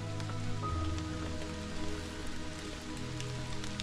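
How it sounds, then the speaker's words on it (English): Rain falls on a mountain path at Mount Qingcheng in China, a steady dense patter of drops hitting the ground all around, close and continuous with no voices. "With no people, with the sound of the rain."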